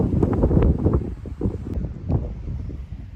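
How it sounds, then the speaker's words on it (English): Steady wind buffeting a microphone outdoors, a low rumbling roar with gusty swells throughout, fairly loud and continuous. "it's a little windy."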